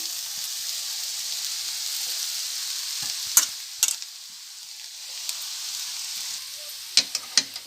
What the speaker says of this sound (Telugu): ఇప్పుడు అటుకుల్ని వేసేసుకుందాం ఇలా వేసేసుకుందాం